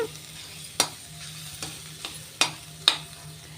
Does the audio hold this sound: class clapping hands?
no